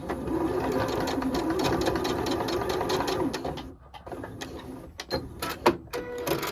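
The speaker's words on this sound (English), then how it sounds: "I'm actually stitching that down as well, so it just secures your edges" A domestic sewing machine runs steadily at close range, quilting stitches through patchwork fabric, then stops and gives a few short, uneven bursts of stitching.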